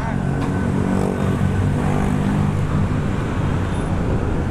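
Loud, constant roar of jammed road traffic around a rider on a Honda CB150R StreetFire motorcycle, with engines rumbling close by and a steady broadband hiss and no break in the noise.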